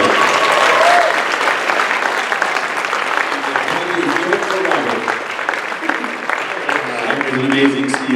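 Loud, sustained audience applause in a hall at a charity auction right after an item is sold, a dense wash of clapping with some cheering, with voices talking over it toward the end.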